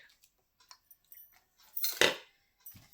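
Small ceramic plates are handled and set down, sparse light clicks and taps followed by a louder clattering knock of ceramic against ceramic, then a brief faint rattle, close by and quiet otherwise.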